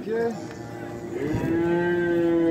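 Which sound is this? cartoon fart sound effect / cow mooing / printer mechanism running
cow mooing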